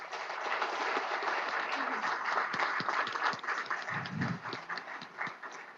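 Audience applause at a legislative breakfast event, a steady wash of clapping from a room of people, moderately distant, with some voices underneath.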